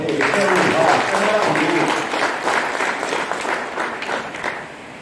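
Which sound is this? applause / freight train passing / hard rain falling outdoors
applause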